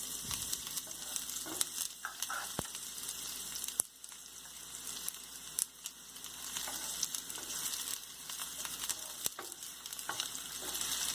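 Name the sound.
onions being added and frying in a pan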